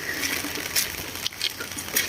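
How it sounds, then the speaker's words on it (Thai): Steady rain falls in southern Thailand (Surat Thani) near a coconut grove, a dense, even hiss of patter with scattered droplet ticks and splashes, fairly close and continuous with no voices. "ฝนตกตอนนี้ที่ใต้ฝนตกค่ะ"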